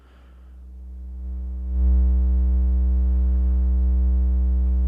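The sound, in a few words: Eurorack modular synth VCO triangle wave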